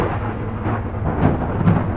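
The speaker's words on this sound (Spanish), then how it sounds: "Un trueno me hizo brincar del susto. Sentí cómo retumbó en todo el lugar." Thunder rumbles in a horror story, a deep continuous roll that swells a little near the end, loud and filling the space with no voices.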